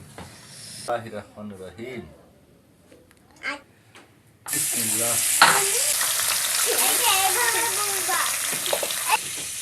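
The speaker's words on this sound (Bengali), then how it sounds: "মাছ তো ভাজা লাগবে আগে" Fish seasoned with turmeric, salt and chili frying in a pan, a loud steady sizzle starting midway after a quieter stretch with speech, continuing under voices.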